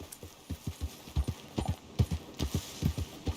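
Horse hooves clip-clopping in the Red Dead video game, a close, steady rhythmic trot of soft thuds continuing throughout with no talk.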